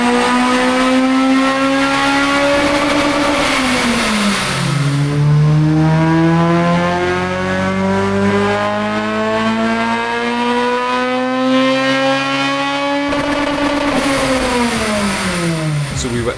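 A high-mileage Honda Integra Type R DC5 engine revs hard and is held at its limiter, buzzing loudly and steadily with the pitch wavering up and down, close to the listener.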